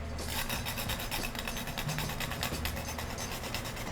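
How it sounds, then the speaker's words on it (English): Tonka bean grated by hand in a home kitchen while cooking kitchari, a steady close raspy scraping in quick repeated strokes over low background rumble, with no talking. "grate the tonka bean."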